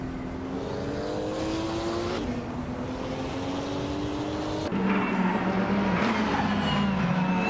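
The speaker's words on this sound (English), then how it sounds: "Amy is currently in third place, driving a 2019 BMW M8 GTE" A 2019 BMW M8 GTE race car engine drones steadily in a racing video game, its pitch rising and then dropping sharply at two gear shifts, loud and continuous with no voices.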